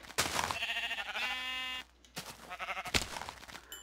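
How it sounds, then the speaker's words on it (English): Several Minecraft sheep bleat in short wavering calls, two or three loud, close bleats separated by a brief pause, with no voices. "Wow, there's lots of sheep here."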